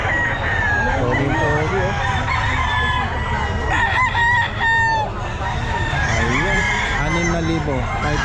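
Several sweater gamefowl roosters crow repeatedly at a busy pet market, with overlapping calls and clucks near and far while people talk throughout.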